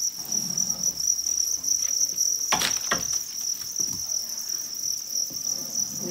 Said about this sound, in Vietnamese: Dế bám đều vào các bề mặt của các cái vỉ trứng này. Được rất nhiều dế.